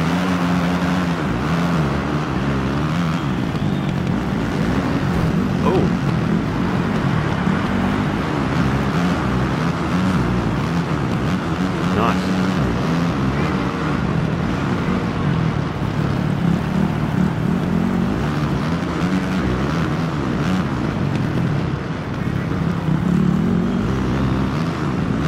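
A Honda 450 motorcycle racing around Fox Raceway in Supercross 2, its engine droning loud and steady throughout with a continuous buzzy roar and small shifts in pitch, close by and with no talking.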